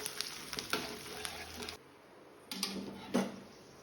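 Mustard seeds, gram dal, curry leaves and turmeric sizzle and crackle in hot oil in a kadai for South Indian temple-style puliyodarai, with a brief quiet gap and then a few sharper spits and pops.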